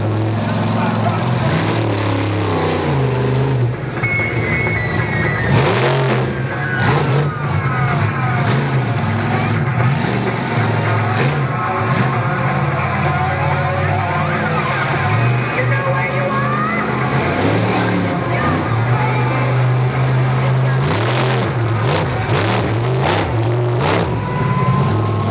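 Monster truck engines rev loudly in an arena at a Monster X Tour event in Evansville, Indiana, including the classic USA-1 and Bigfoot trucks, with repeated bursts of roaring acceleration over a continuous crowd and announcer backdrop.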